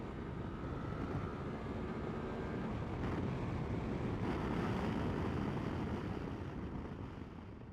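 Suzuki V-Strom 800RE motorcycle accelerating hard in fourth gear on a race track, a steady loud engine drone mixed with heavy wind rush, rising slightly in intensity with no talking.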